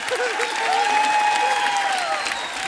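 A television comedy show's studio audience claps steadily throughout, dense and even, with a voice carrying on over the applause.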